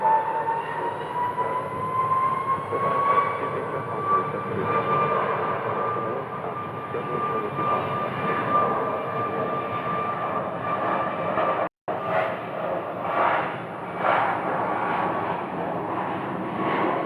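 A plane flying over Phoenix Sky Harbor airport as flights land on runway 25 right, with loud, steady jet roar and a whining engine tone that fills the whole stretch, broken only by a momentary dropout near the end.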